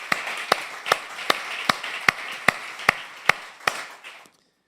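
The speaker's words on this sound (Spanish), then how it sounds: "Démosle ese fuerte aplauso al Señor" A church congregation claims its applause as rhythmic, evenly spaced sharp claps, about a dozen in a steady beat over a soft wash of sound, ending in quiet.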